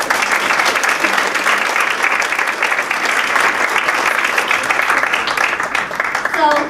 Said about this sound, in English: Please join me in a round of applause for all of our speakers.